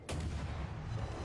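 Naval guns fire in the World of Warships game, one sharp, loud boom that rolls into a heavy, rumbling tail of about a second.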